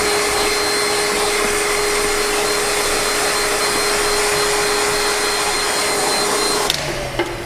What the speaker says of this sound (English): Might need the vacuum cleaner.